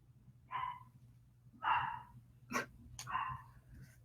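Dogs bark indoors in three separate loud bursts spaced about a second apart, the last one sharp and clipped, over a low steady hum.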